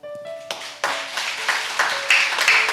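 Congregation at a Sunday church service starts clapping in scattered bursts that quickly build into fuller, steady applause, moderately loud, with a few sustained tones from an instrument or voice underneath at the start.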